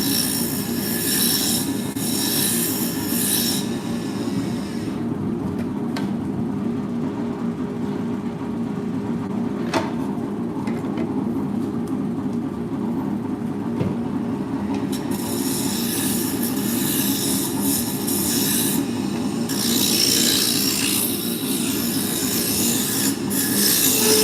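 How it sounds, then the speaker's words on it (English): A roughing gouge cuts a spinning blank on a wood lathe, producing a continuous loud scraping, rubbing whine with harsh bursts of high hiss at the start and end, heard alone without speech. "So I'm going to start out with the roughing gouge."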